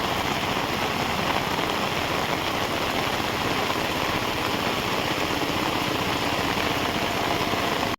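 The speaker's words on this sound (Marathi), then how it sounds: "बघा पुन्हा पावसाने सुरुवात केली" Heavy rain pours steadily over a rice field in the Konkan region during planting season, a dense, constant hiss with a low rumble like a distant engine beneath it.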